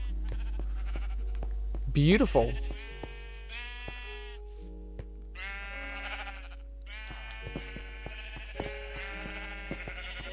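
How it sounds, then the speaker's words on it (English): Sheep bleat repeatedly in the Minecraft video game as they are sheared, several near, clear calls spread through the clip, with a brief spoken word early on. "it looks like most of the sheep got sheared instantly."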